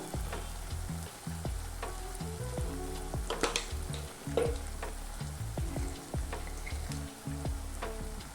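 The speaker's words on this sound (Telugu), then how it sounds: "ఇప్పుడు గోంగూర బాగా మగ్గేంత వరకు బాగా కలుపుకోవాలి." Gongura sorrel leaves stirred and cooked in a pan, a steady close sizzle of frying broken by repeated scraping and clanking strokes of a spoon against the pan.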